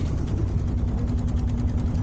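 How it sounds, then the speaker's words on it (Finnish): A sailboat's engine idling at the start of a sailing trip, a steady low throbbing rumble with a faint regular pulse, moderately quiet and continuous with no voices. "moottori päällä"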